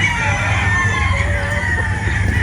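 Chickens kept in pens during afternoon feeding, with steady low murmuring and clucking from a flock of pullets close by, a continuous busy background with a few higher calls rising above it.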